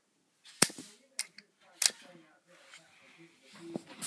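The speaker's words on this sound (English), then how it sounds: "And then there's the flick fire missiles." A spring-loaded flick-fire missile on a Lego Star Wars Republic Striker-class starfighter is snapped off in a few sharp plastic clicks, close and loud against a quiet room, with a faint voice-like sound near the end.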